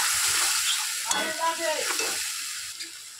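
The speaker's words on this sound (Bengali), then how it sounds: "তেলটা গরম হয়ে গেছে, পুরো মশলাটাকে তেলের মধ্যে দিয়ে দিলাম।" A spice paste of green chili and tomato hits hot oil with a sudden crackling sizzle, a few sharp pops and a stirring scrape over a constant bright hiss, close and fairly loud.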